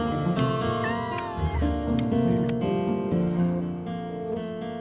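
A cat in the video game Before Your Eyes meows several times over soft game music, the calls close and clear with rising and falling pitch.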